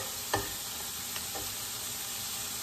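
Shrimp fry in a pan as they are flipped, giving a steady, fairly quiet sizzle with a couple of soft clinks and stirring touches along the way.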